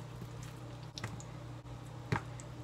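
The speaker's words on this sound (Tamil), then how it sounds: "இப்போ எல்லா சிக்கன் பீசஸையும் இந்த டப்பாக்குள்ள வச்சிடுறேன்" Raw chicken pieces are set into a plastic box in a home kitchen, making a few soft, wet squelches and light taps at close range against a quiet background.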